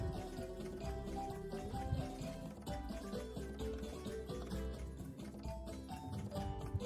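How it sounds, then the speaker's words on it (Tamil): Water is poured over sago pearls to wash them for a lentil payasam, giving a faint, running splash and trickle of liquid close by, with no voices. "தண்ணி ஊற்றி நல்லா கழுவி எடுத்துகிட்டு வந்துக்கலாம்"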